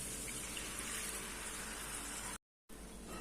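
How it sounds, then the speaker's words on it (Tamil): Water poured from a glass into a cooking pan while making garlic chutney, a steady close splashing rush that runs continuously, breaks off briefly, then resumes. "அதுக்கப்புறம் தண்ணி நான் ஒரு கிளாஸ் அளவுக்கு சேர்த்துறேன்."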